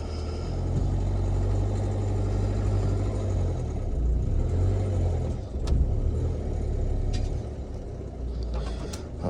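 A Ford Fiesta creeps up onto ramps, its engine a steady low idle-like drone that swells slightly under load, with a brief clunk partway through as the car settles, and no voices.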